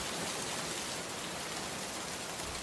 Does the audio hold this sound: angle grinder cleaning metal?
no